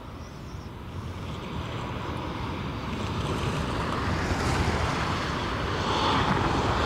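A Ryanair airliner at Dublin Airport, a broad, steady roar that swells gradually and stays loud across the whole stretch, with a wind-like rushing texture and no voices.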